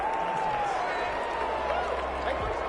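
Stadium crowd roar from an American football video game matchup between the Dolphins and Las Vegas, a steady broad wash of noise running continuously under the game's sounds, with a speaking voice also present.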